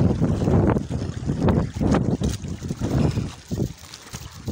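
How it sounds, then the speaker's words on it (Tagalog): Strong wind buffets the microphone aboard a boat at sea, with gusty roaring surges and water sounds throughout, loud and close. "Grabe yung lakas ng hangin"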